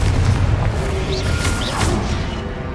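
Confringo blasting spells burst in Hogwarts Legacy combat, a dense, loud rumble of booming impacts with whooshing magical effects layered over continuous low-end battle noise, no clear pause throughout.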